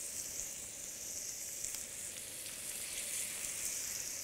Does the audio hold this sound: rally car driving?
no